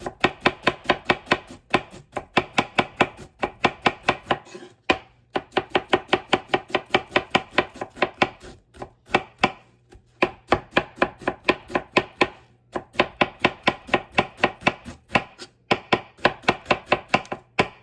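A knife thinly shredding cabbage for minestrone on a cutting board, rapid regular chopping strokes in bursts of several seconds with brief pauses, close and crisp, no talking.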